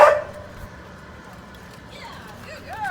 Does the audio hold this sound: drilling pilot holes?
no